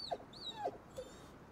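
A dog in Ghostwire Tokyo gives a few soft, high whimpers and whines in quick succession, faint and close, with no talk.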